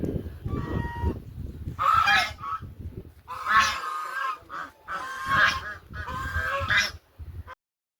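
Loud, repeated honking calls from waterfowl by a riverside farm, coming in several bursts of harsh nasal quacks separated by short pauses before falling silent.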